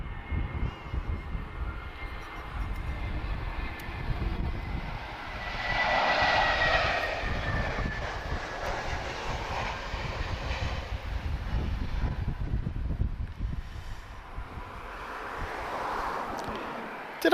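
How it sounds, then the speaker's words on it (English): Vueling Airbus A320neo with Pratt & Whitney 1000G engines arriving at Lisbon Airport, a steady loud jet roar that swells and fades over several seconds as it passes, with no talk. "inbound is an A320neo"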